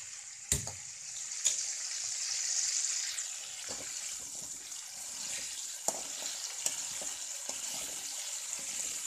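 Cumin, mustard seeds and curry leaves sizzling in hot oil left over from frying fish for a masala fish curry, a soft steady hiss with occasional sharp pops and clicks of utensils.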